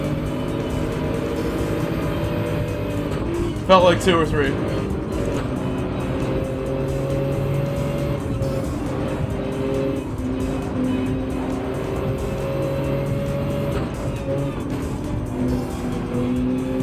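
Race cars in Gran Turismo 7 at Willow Springs, a steady droning engine chorus of several cars close together with a brief skid or bump near the four-second mark, and a short spoken remark partway through.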